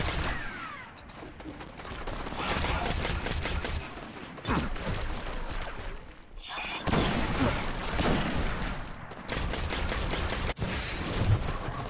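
Gunfire rattles through a solo Nightfall strike in Destiny, with dense, continuous bursts of rapid shots and thuds, fairly close and sustained, briefly dipping before resuming.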